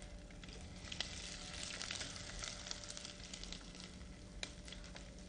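Spices crackle and sizzle in hot oil with finely chopped ginger, a steady dense frying hiss broken by frequent sharp pops while the mix is stirred, with no talking.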